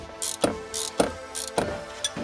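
A hand ratchet snugs down bolts on the suspension of a 2021 Toyota Supra during a spring install, with four crisp bursts of rapid pawl clicks in an even, close rhythm.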